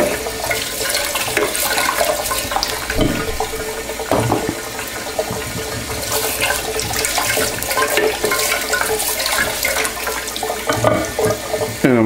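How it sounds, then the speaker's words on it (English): Vegetables scrubbed by hand under a running kitchen tap, a steady loud rush of water with rubbing and splashing bursts throughout, no talking. "here's how I wash the vegetables. I pretty much just scrub it"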